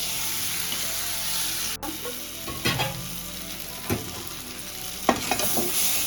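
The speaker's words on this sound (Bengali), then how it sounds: "এইরকমভাবে ভাজা ভাজা করতে হবে, নইলে মশলাটা কাঁচা থাকলে ভালো লাগবে না।" Spice masala with green chilli and chilli powder fries and is stirred in a pan for a thin snakehead (shol) fish curry, a loud steady sizzle with intermittent scraping stirs and one sharp clack.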